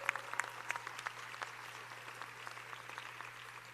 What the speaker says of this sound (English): Let's give everyone who made this possible a round of applause.